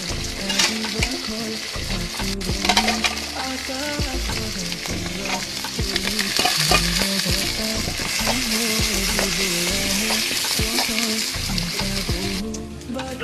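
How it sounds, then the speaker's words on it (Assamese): Meat sizzling loudly in hot oil with a potato, a dense, crackling fry broken by repeated scraping and stirring knocks of a utensil against the pan, close and continuous. "ফাইনেলি মাংস দি দিছোঁ তেলত"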